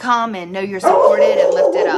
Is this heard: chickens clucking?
no